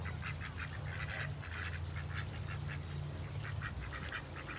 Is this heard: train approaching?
no